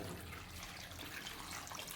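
Water poured into a pot of curry with curry leaves, turmeric, chilli powder and rock salt, a steady splashing pour running unbroken and fairly quiet throughout.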